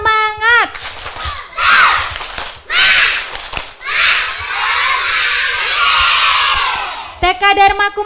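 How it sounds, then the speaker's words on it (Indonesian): Kindergarten children shout a lively clapping chant together, loud and close, with bursts of high excited voices and cheering between quick claps. "kasih dulu tepuk semangatnya"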